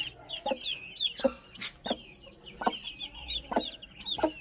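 Chickens cluck in short, repeated bursts about once a second, close by, with faint chirps of chicks and steady barnyard background between calls.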